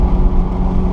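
A 2018 Honda Civic Si with its 1.5-liter turbo engine pulls hard through third and fourth gear, giving a steady, full low engine drone that stays close and loud with no talk over it.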